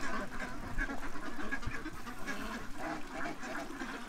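Ducks on water, diving and churning it up, quacking continuously in a busy flock over splashing and steady background noise, with no one talking.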